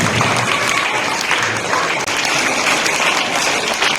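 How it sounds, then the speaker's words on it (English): At a school Christmas gathering, an audience gives a big round of applause to welcome a guest, a loud, continuous clatter of many hands clapping at a steady level for the full stretch. "So let's welcome him with a big round of applause."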